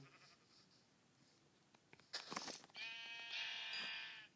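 A sheep bleats in Minecraft Pocket Edition, a wavering, nasal bleat after a few soft thumps and a short burst of noise, clear and up close.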